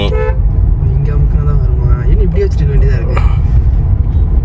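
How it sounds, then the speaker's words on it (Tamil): A car horn toots briefly over loud engine and traffic rumble, with a person talking nearby. "இப்போ ஹார்ன் அடி"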